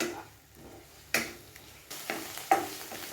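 Thick watermelon rind halwa stirred and sautéed in a pan, with soft scraping and three distinct knocks of the spoon against the metal, close by in a quiet kitchen with no voices.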